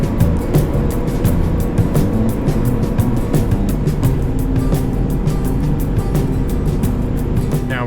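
Steady engine rumble and road noise from an 1980s Nissan Hardbody 4x4 pickup driving into the Canadian Rockies, loud and continuous with a low droning hum and no talking.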